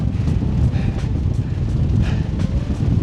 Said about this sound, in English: I'm sure you can't hear me with the wind.